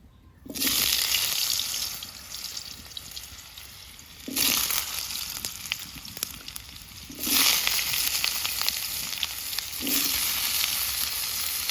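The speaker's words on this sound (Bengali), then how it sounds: "তেল গরম হয়ে যাওয়ার পর এখানে কুচি করে রাখা আলুগুলো দিয়ে দেব।" Chopped potatoes frying in hot mustard oil for a young jackfruit curry: a hissing sizzle that swells in four loud surges, with quieter crackling between them, close up.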